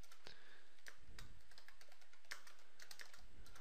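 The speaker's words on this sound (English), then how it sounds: "I know, this is a lot of typing for learning HTML." Someone types HTML code on a computer keyboard, a close, irregular run of crisp key clicks with short pauses and a few heavier thumps, with no talking.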